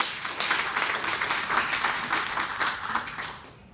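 A workshop audience at a Vercel Ship conference claps in a sustained round of applause, dense and even, fading slightly toward the end.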